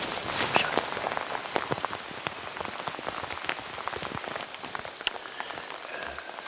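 Heavy rain pours down in the Brazilian rainforest, a dense continuous patter of drops striking leaves and surfaces close by, with sharper individual drips cracking through the steady hiss.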